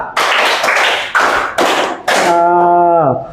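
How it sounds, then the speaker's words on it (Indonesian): A class claps in unison as a group, sharp bursts with short gaps between them, followed by a brief sustained vocal tone from the children at the end. "Tepuk 5."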